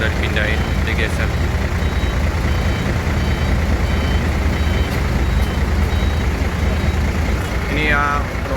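A Rosalia Indah Scania Jetbus reverses at a bus terminal, its reversing beeps repeating steadily over a heavy diesel idle rumble, with faint voices and surrounding traffic noise.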